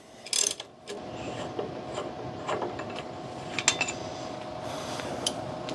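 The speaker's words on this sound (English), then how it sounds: "Take our old tensioner off." An old belt tensioner is worked off a 1993 Chevy Blazer engine: close metallic ratcheting and clanking of tools, with a sharp clatter at the start and scattered clicks after, no voices.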